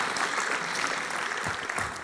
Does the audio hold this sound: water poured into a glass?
no